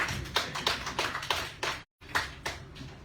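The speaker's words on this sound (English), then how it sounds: "let us clap for President Bill" Audience applause at a post-election government information ministry press briefing for President Bill, a steady run of dense hand claps with a brief pause before the clapping resumes.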